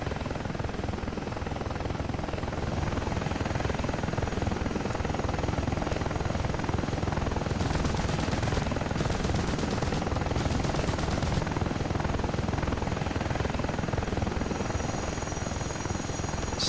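Ka-50 Black Shark helicopter in DCS World, modded as an AH-64A, with constant rotor roar and bursts of gun fire in several short volleys midway, dense and loud throughout.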